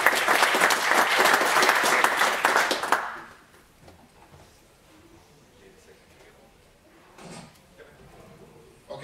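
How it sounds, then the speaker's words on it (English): Audience applause at the end of a talk on open source and the Internet of Things, loud and dense for about three seconds, then cutting off into quiet room tone with brief faint stirring. "you're allowed to applaud if you want"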